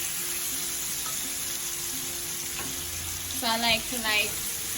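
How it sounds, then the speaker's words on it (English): Chicken pieces for Jamaican curry chicken sizzle steadily in hot oil, a continuous frying hiss throughout, with a few brief clatters and a voice speaking near the end. "So I'm just going to place them now into the hot oil."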